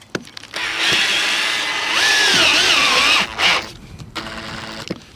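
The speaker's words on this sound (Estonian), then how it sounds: "Nii, katusekruviga tihendab ilusti vastu ja ma vahen nüüd kõik kruvid ära." A power drill drives roofing screws into a van roof in one loud, sustained whine lasting a few seconds, its pitch rising and dipping as the screw seats. Shorter clicks and whirs follow.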